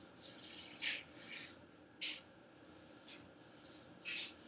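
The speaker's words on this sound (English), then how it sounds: "I'm going to use the side of my pastel for my application." The side of a pastel stick drawn over paper makes soft, faint rubbing strokes, several separate short scrapes spaced about a second apart in a quiet room.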